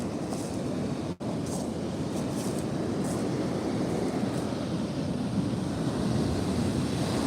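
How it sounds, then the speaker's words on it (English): Surf on the Oregon coast washes in as a steady, loud broadband roar that runs through the whole stretch with no speech, and the rush swells and recedes only slightly. "Yeah, those waves are kicking pretty good."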